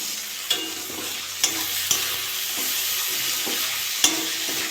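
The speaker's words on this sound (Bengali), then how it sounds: "এটা ভালো করে ভেজে নিয়েছি" Tomato and vegetables fry in a pan for flour chow mein, a steady bright sizzle with occasional soft clinks of a spatula stirring, close and continuous without talk.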